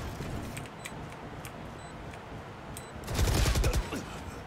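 Video game gunfire goes off while the player character walks, with scattered sharp shots early on and then a louder, denser burst of rapid fire near the end, all close and without talking.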